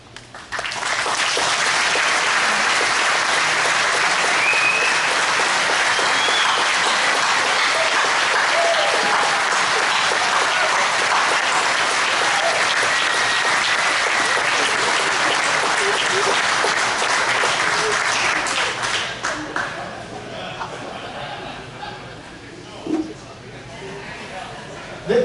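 Rugby club anniversary gala crowd gives sustained applause, a loud, dense wash of clapping from many people that holds steady for about twenty seconds, then thins out into scattered claps and murmuring voices near the end.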